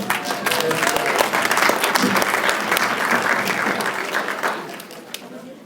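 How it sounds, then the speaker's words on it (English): Loud, close audience applause at a pet fashion show awards ceremony, a thick burst of clapping with some crowd noise that holds strongly for a few seconds before easing off. "Let's give Katie a round of applause."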